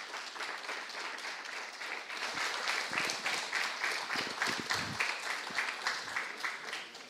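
A live studio audience applauds a guest walking onto the stage, steady dense clapping that swells slightly in the middle and carries on for several seconds, with a few scattered voices mixed in.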